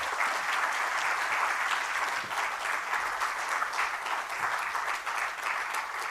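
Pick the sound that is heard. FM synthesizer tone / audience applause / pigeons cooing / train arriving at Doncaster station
audience applause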